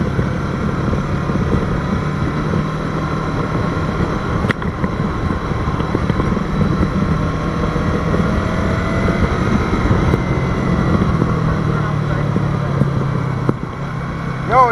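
A Yamaha R3 motorcycle rides through hilly country roads with a loud, steady engine drone and passing road noise, close and continuous throughout, with no voices heard.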